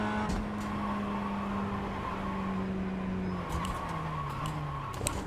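Virtual race cars in a VR racing game drone with steady engine notes that shift in pitch as they lap the track. Faint tire noise and brief clicks run under the constant motor sound, with no talk.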